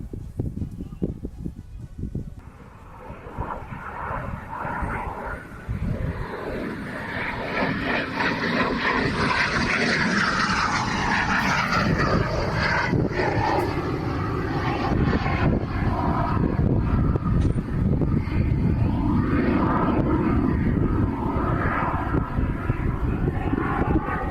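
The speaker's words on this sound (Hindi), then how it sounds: "एयर शो की तैयारी कर रहा था सैन्य विमान और तभी दुर्घटनाग्रस्त हो गया।" A military aircraft preparing for an air show roars past, its engine swelling from a rumble into a loud sustained drone with a sweeping pitch shift as it passes close, then holding steady.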